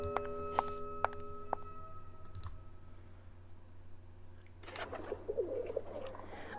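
Pigeon cooing in a Venice-set video game: a few sharp clicks come first, then a soft warbling coo rises near the end over a low steady hum.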